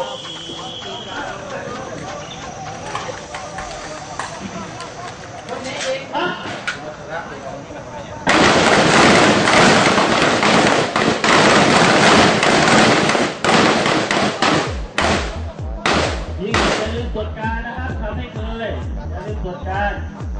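Rifles fire at a shooting range. Scattered shots are followed by a dense, loud barrage of overlapping cracks, then spaced single reports, while voices talk in the background.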